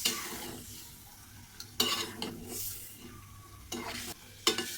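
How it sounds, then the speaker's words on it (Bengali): Prawns frying and being stirred in a chili spice paste in a pan, with a steady sizzle broken by several loud scraping stirs of a utensil against the pan. "মরিচ মশলাটুকু আর একটু ভালো করে কষিয়ে নিল দিয়ে দিলাম চিংড়ি মাছ"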